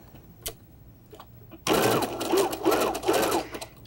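A domestic sewing machine stitches an embroidered outline in red embroidery thread on upholstery fabric for a cushion, starting abruptly after a quiet pause and running as a close, steady, fast mechanical whir with rhythmic pitch swells.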